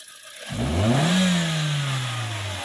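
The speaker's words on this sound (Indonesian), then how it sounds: "Setelah selesai, suara mesin hanya terdengar injektornya saja." A Toyota Sienta engine after Blackcore tuning starts up and settles into a smooth, steady hum, with a rising then slowly falling engine tone that sounds close and moderately loud, with no voices.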